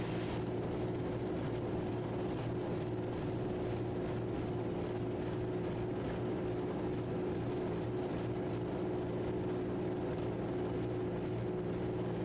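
Inside the Raptor prototype aircraft while taxiing, an even, continuous engine drone with a low hum persists throughout at moderate level, no voices present.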